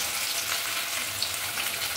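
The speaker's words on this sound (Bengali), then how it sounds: "মাছ ভাজা বসিয়ে দিয়েছি" Fish sizzles steadily in hot oil in a pan, a dense, even hiss that runs close and loud throughout with no talk.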